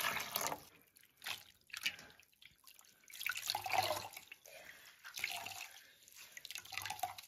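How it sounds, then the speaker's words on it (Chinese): Pickled Chinese cabbage (suancai) being rinsed in clean water in a rural Northeast China kitchen, with intermittent splashing, dripping and sloshing in close, quiet bursts. "酸菜用清水投洗两遍"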